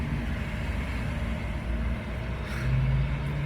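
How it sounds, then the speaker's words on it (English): A large Gatorade delivery truck passes by outdoors, its steady broadband road rumble and low engine drone filling the scene, growing a little louder and heavier toward the end. No talk is heard. "A big old Gatorade truck just passed."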